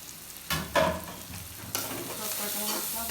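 Spices with salt, turmeric and chili powder frying in oil in a pan for a papaya chicken curry, a steady close sizzle with a spatula stirring and scraping in a few distinct strokes.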